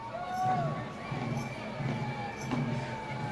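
A large crowd at the People's Climate March in New York City, a diffuse murmur of many voices with scattered distant shouts and footsteps, moderately loud and continuous outdoors.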